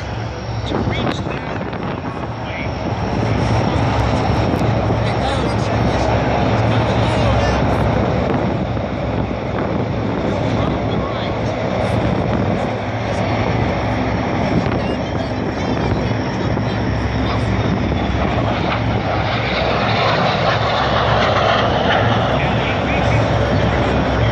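A Harrier jet diving during a demonstration at the Wings Over Pittsburgh 2017 air show, a loud, continuous, wind-buffeted jet roar that holds steady for the whole stretch.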